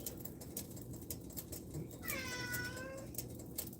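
A domestic cat gives one clear, drawn-out meow midway through, fairly close, over a quiet room background.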